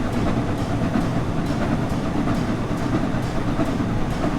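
A London Underground train rolls past at Royal Oak in Train Sim World, giving a steady, loud rumble with rhythmic clickety-clack of wheels over rail joints through the whole stretch.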